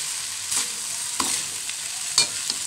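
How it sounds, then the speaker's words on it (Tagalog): Rice is stirred through a hot pan for vegetable fried rice, with a constant close sizzle and soft scraping strokes from the spatula repeating every half second or so. "Inihalo na natin yung kanin. Halo-haloin natin."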